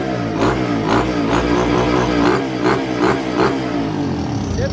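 A motorcycle fitted with a 190 kit revs hard and steadily on a dynamometer, with repeated rising bursts over a constant loud mechanical drone, close and continuous throughout.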